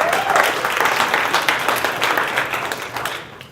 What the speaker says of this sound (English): So I just want to give them all a round of applause before I invite them up